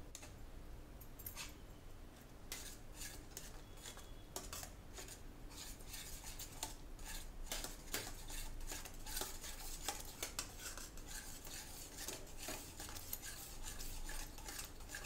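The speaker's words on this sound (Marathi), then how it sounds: "आता आपण यात बदाम, स्टिविया आणि वेलची पूड या सगळ्या गोष्टी मिक्स करून घेऊया" A spoon scrapes and clinks in a pan while almonds, stevia and cardamom powder are stirred into dudhi halva. The strokes are close, irregular and steady throughout, with metal ticks over a soft scraping bed.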